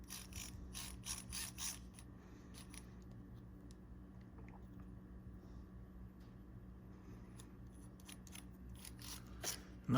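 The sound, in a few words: tightening a motor down on an SCX24 RC truck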